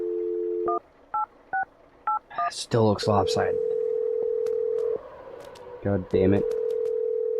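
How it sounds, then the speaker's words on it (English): Touch-tone telephone keypad beeps in a short sequence, followed by a steady dial tone that drops out and returns, with a voice talking over parts of it. "I'm gonna dial the phone number right now though and get her on the phone"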